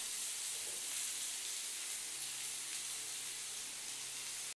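Vegetables and egg bhujia frying in a pan with a little sugar give off a steady, soft sizzling hiss that runs unbroken at low level until a sudden cut at the end, with no talking.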